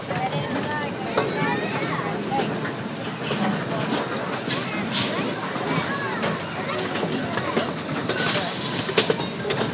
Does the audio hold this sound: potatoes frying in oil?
no